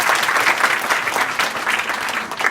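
Students at a school assembly at S S J Balika Inter College in Azamgarh clap loudly together, a quick, dense burst of applause that stays strong throughout the brief moment.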